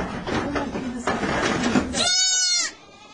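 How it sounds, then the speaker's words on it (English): A two-day-old goat kid on a family farm lets out one clear, wavering bleat near the end, following a stretch of people talking nearby. "This little goat is only 2 days old."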